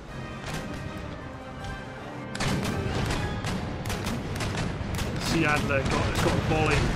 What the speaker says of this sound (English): Got a volley from our first three ship of the line into it.